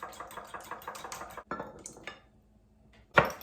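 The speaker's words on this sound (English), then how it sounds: "I'm putting in 2 large eggs and I'm going to whisk them a bit" Two large eggs whisked in a bowl: rapid rhythmic clinks and taps of the utensil against the bowl, then a brief lull and one sharper knock.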